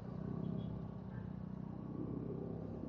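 Traffic crawls along a rainy street, a soft continuous low engine rumble with faint idling motors nearby and a dull wash of rain and wet road noise throughout.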